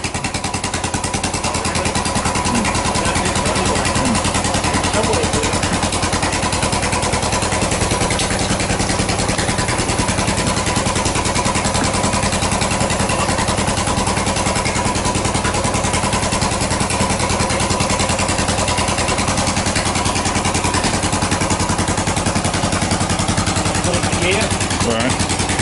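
A Royal Enfield motorcycle engine runs continuously and loudly nearby, a dense rumbling drone that holds steady throughout with voices talking over it.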